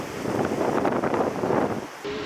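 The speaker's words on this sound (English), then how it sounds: "Obviously it's still mad windy here" Strong wind roars and buffets the microphone at an outdoor campsite, a dense, loud rush that lasts until a brief drop near the end.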